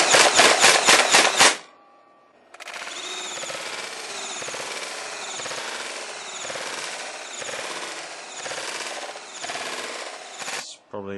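A motorised foam blaster on 12 volts fires fast automatic rounds, about three per second, in a steady close mechanical rattle lasting several seconds after a brief initial burst and a pause.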